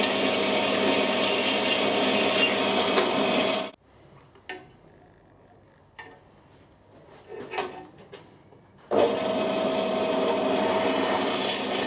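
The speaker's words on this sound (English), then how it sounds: "Drill into the centre punch bar." A drill grinds loudly into a metal centre punch bar for a few seconds, stops for quiet handling clatter and scraping, then starts drilling again at full loudness.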